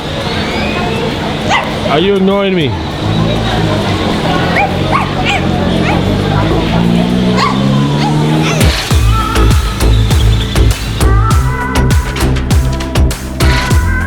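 Near a person in Valladolid, Mexico, a dog gives repeated yips, whimpers and short barks, close and fairly loud, mixed with ongoing talk.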